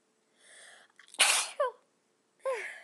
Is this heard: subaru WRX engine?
no